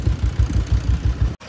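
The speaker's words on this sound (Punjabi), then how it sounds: "ਹੁਣ ਆਇਆ ਮੁੰਡਾ ਟਰੈਕਟਰ ਲੈ ਕੇ" A tractor engine running close by, a steady low chugging idle with regular rhythmic pulses, cutting off abruptly near the end.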